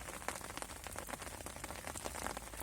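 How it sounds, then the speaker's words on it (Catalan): Rain falls steadily in a dense, even patter, quiet and continuous throughout with no voices. "Com és que ens agrada el so de la pluja?"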